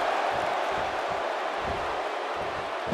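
A wrestling arena crowd roars steadily through a handicap match, a dense and unbroken wash of voices heard from within the audience for a few seconds.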